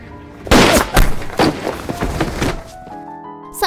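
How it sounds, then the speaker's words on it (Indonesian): A series of sharp, heavy pistol shots, several in quick succession, followed by a lingering tonal ring at the end. "Namun saat Kim dihajar, dengan cepat dia berhasil meraih pistol dan menembakkan lengan Sehun"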